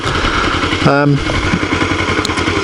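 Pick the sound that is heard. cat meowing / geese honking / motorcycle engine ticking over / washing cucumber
motorcycle engine ticking over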